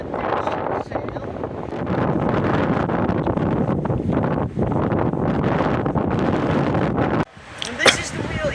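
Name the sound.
strong wind outside a historic windmill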